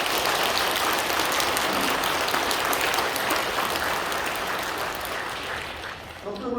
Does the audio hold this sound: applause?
yes